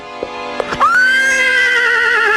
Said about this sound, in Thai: โคตรไตสือดูสิ เป็นม้าวิเศษจริง ๆ นะ